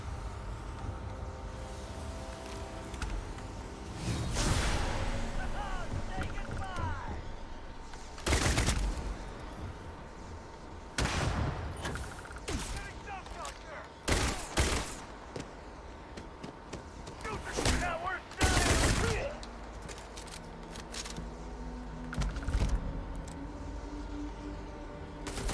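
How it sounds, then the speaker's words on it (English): Gunfire and explosive blasts from a rocket launcher in the video game Starfield ring out as several loud, sharp bursts scattered over a continuous game soundscape. "who gave that man a rocket launcher?"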